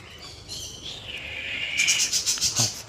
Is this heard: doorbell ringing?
no